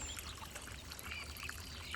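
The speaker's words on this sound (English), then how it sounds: "the first thing that captures your eye is a little fountain water feature down in here, what we call a sukubai" Water trickles softly and steadily in a tsukubai, a stone handwashing basin in a Japanese garden, a faint, continuous dribble with light outdoor ambience and occasional bird chirps.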